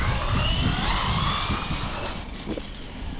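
An RC vehicle driven by a 3800 kV electric motor runs at speed, giving a steady, loud, broadband whirring roar that eases slightly and wavers toward the end, with no voices.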